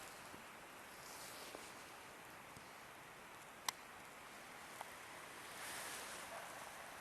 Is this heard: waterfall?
yes